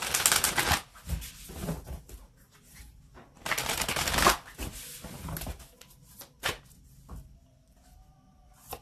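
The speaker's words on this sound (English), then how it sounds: "So let's just get the final oracle card here for you." A deck of oracle cards is shuffled in loud, riffling bursts that come in several rounds with short pauses between them, close up with no talking.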